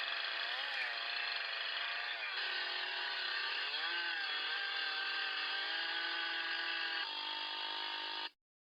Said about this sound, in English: Of course, he's just using his chainsaw.